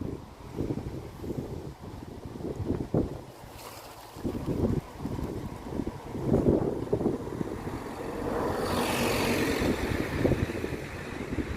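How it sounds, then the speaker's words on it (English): Wind buffets a microphone outdoors along country lanes in loud, irregular gusts that thump and rumble, then settle into a steadier rushing roar toward the end. "The wind's picked up a little bit and all."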